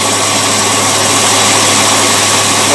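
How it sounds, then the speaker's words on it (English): Boat engine fitted with a Rochester two-barrel carburetor running at medium speed, around 1200 RPM, a loud, steady, dense mechanical roar with a low throb, continuous and unchanging, with no talking. "That carburetor was lean at idle. Let's see what it does at medium speed."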